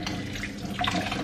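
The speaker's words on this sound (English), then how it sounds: "I'm going to twist the tea towel and squeeze out all the water from the cauliflower." Water streaming and splashing steadily as wet grated cauliflower is wrung out in a twisted tea towel, a close continuous trickle with a brief louder gush near the end.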